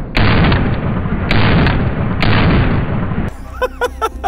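A comped Nighthawk pistol chambered in 10mm Auto fires three loud, close shots about a second apart, each with a long ringing decay, followed by a brief burst of short sharp sounds.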